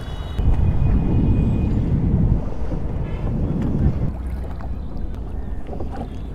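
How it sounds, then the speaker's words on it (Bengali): Strong wind buffeting the microphone aboard a small boat on a river, a loud gusty roar in the first few seconds that eases into a softer rush of wind and water. "বাতাস প্রচুর"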